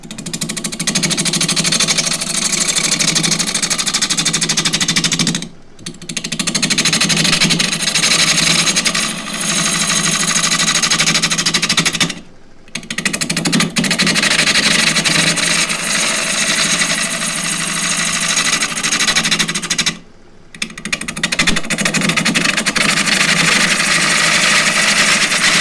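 A half-inch spindle gouge cuts very hard, dry ripple ash on a wood lathe spinning at 855 for a crossgrain box, giving a loud, steady buzzing whir broken by three brief pauses.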